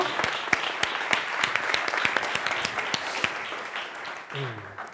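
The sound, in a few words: audience applause for a speaker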